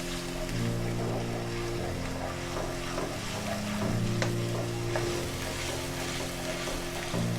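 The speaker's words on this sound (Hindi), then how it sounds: "ये हमारे पास लहसुन अदरक और हरी मिर्चें कटी हैं, ये डाल देंगे। इसको हल्का सा फ्राई करेंगे।" Chopped garlic, ginger and green chillies fry in a karahi for a dhaba-style chicken karahi, giving a steady, close sizzling hiss that runs the whole time under constant background music.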